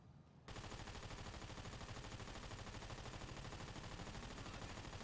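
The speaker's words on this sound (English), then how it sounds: "I'm gonna shoot." Continuous rapid automatic gunfire in GTA5, fired with an anti-recoil mod, starts abruptly after a brief quiet moment and holds loud and steady to the end with no one talking.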